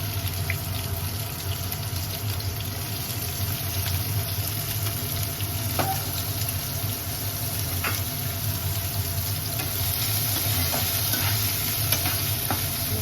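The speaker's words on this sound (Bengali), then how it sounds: "পেঁয়াজ কুচিটাকে ভালো করে ভেজে নেব।" Chopped onions frying in oil for prawn curry, a steady dense sizzle with occasional stirring scrapes and clicks, close and continuous with no talking.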